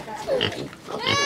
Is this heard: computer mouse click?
no